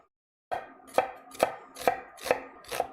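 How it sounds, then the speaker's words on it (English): Six even, crisp knife chops on a cutting board dice a red onion, about two per second and close up, after half a second of silence. "I want this diced, so I'm just going to kind of cut through like this."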